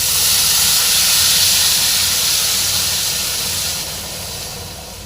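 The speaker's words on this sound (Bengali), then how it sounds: "এর মধ্যে এবার দিয়ে দিলাম পরিমাণ মতো গরম জল।" Hot water poured into a pan of frying shyama rice, a loud steady sizzling hiss and steam rush that fades slightly toward the end, alone without talk.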